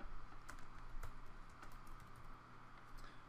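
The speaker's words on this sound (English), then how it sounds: "let's start typing." Faint keys clatter in soft, irregular taps on a computer keyboard while someone types into a web app, with no talking over the quiet room tone.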